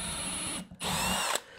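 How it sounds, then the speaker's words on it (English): A power drill bores a hole along a spacing jig in a home workshop, whining in two loud bursts separated by a brief pause, with a small clunk at the end of the second burst. "And now I can drill the next hole."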